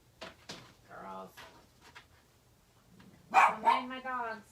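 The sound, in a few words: dogs barking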